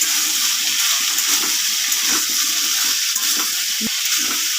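Potatoes stir-fried with salt in a pan give off a loud, dense, continuous sizzle close by, with soft scraping stirs and one sharp clink partway through.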